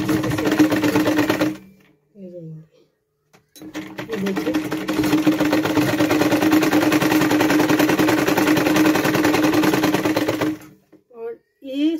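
A sewing machine stitches a cloth baby nappy in a fast, steady mechanical rattle, heard close and loud for two long runs separated by a short break, with brief talking in the gaps.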